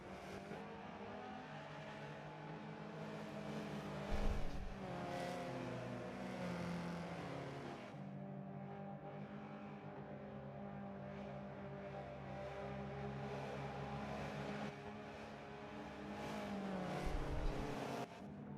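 Subaru BRZ race cars circling the Long Beach street circuit, a steady engine drone from the pack running at reduced pace, with brief surges as cars pass nearby, no voices over it.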